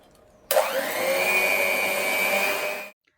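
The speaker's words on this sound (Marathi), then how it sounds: "तर आता आपण ब्लेंडरने करू शकतोय." A hand blender whirs into lentil batter for dahi vada, starting abruptly with a rising motor whine, holding a steady high hum for over two seconds, then cutting off.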